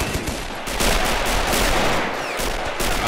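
Dense gunfire rattles through a battle in the war strategy game Men of War: Assault Squad 2, loud rapid bursts overlapping continuously like machine guns and rifles firing together.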